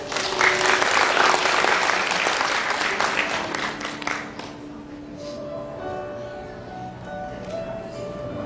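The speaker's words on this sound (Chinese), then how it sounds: "掌声欢迎 Kevin" Guests at a wedding banquet clap loudly and steadily for a few seconds before the applause thins and fades into a quieter room hum.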